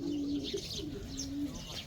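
Pigeons kept at a farm house in Wafra, Kuwait, coo softly nearby, two drawn-out low coos with brief chirps and rustling between them, no talk.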